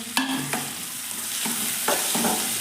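Chopped tomato frying with prawns in a pan on full gas, a steady close sizzle broken by a few sharp scraping stirs of the spoon.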